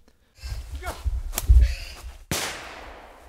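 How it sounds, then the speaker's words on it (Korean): A single sharp shotgun blast cracks out near the end of a wild boar hunt in wooded Gangwon hills, preceded by rustling movement and faint sounds, its echo decaying slowly. "사냥개 짖는 소리와 총소리가 들리더니"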